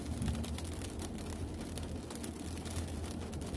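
Rain falls steadily on a street in Hat Yai, Songkhla, as a constant hiss with a low rumble underneath and no voices.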